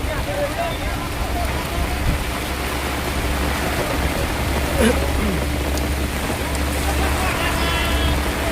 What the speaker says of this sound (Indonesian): Ada truk lewat.